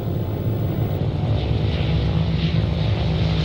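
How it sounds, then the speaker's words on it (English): A propeller aircraft flies during a French military airlift from air bases in Hanoi and Haiphong, giving a steady, dense droning engine hum with a low throb, continuous and fairly loud throughout. "Navarre orders the airlift of a large force from the Gia Lam Air Base in Hanoi and Gap Ba in Haiphong"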